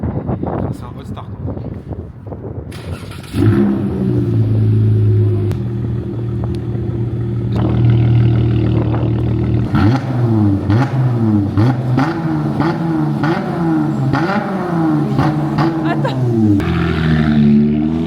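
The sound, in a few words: Dodge car engine hot start and revving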